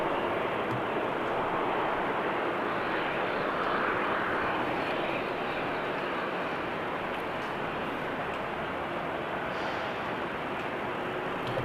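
Boeing 737 airliner taking off at Amsterdam Schiphol Airport, a loud broad continuous jet engine roar holding steady for the whole stretch, heard from a spotting position with no voices.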